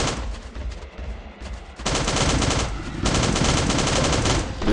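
Gunfire in the Last Day On Earth survival video game, bursts of rapid automatic shots, loud and close, with a brief pause before sustained firing resumes.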